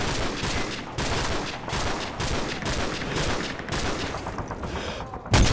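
Rapid, dense gunfire in the video game Call of Duty: Modern Warfare 3, repeated bursts close and loud over several seconds, with one heavier blast at the very end.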